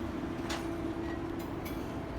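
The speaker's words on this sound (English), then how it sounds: "as can be seen with the train reversing in front of us now" Heritage train with old passenger cars reversing on the Aspen Crossing Railway, a steady low rumble and hum of the rolling cars nearby with a few faint squeals and clanks.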